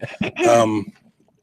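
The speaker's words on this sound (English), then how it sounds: "She's just clearing throat." A single close, voiced throat clearing, a short rough rumble that trails off into quiet.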